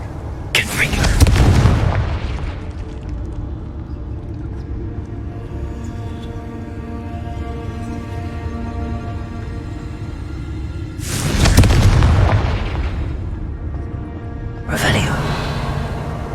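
Confringo, the fiery explosive spell in the video game Hogwarts Legacy, goes off as three deep booming blasts, one at the start, one later and a shorter one at the end, over a steady humming game soundtrack.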